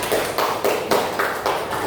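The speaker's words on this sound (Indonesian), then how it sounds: "Tepuk tangan." Elementary school class clapping together in a classroom, loud and close, with repeated short bursts of many hands falling into a quick rhythmic pattern.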